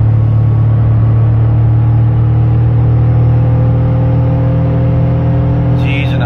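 A United Bravo car accelerating hard during a top speed run gives a loud, steady engine drone with a low rumble that holds evenly throughout, with no talking.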